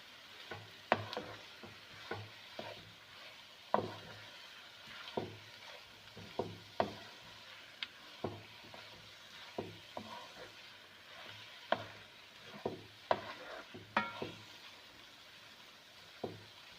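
Okra (bhindi) being stirred and fried with masala spices in a pan, with a soft sizzle under repeated irregular scrapes and knocks of the spoon against the pan, fairly quiet and close, with no speech.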